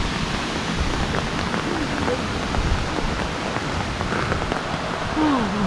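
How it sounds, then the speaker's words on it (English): Heavy rain pours steadily at Amicalola Falls State Park in the Georgia mountains, a dense, continuous hiss with scattered drip spatters and faint bird chirps near the end. "Even in the pouring down rain."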